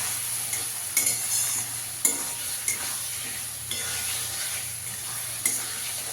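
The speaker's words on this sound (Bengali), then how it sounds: "ভালো করে মশলাটাকে একটু কষিয়ে নিতে হবে" Spice paste with cumin powder is fried and stirred in hot oil: a steady, close sizzle runs throughout, broken by several sharp scraping stirs of the spoon against the pan.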